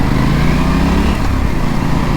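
New motorcycle engine droning steadily and loud while riding on an Andhra Pradesh road trip, a continuous close rumble with slight fluctuations in pitch, with no talk over it.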